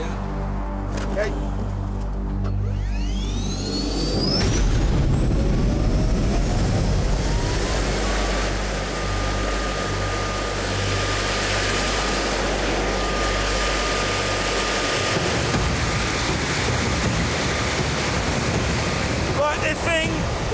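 A small jet engine producing 100 pounds of thrust spools up to 60,000 RPM. A rising whine builds into a loud, steady, rushing roar that stays close and continuous.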